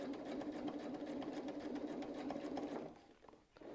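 A sewing machine runs steadily while stitching a quilting pattern with a rotating mandala guide, its fast continuous hum close and even for nearly three seconds before slowing and stopping.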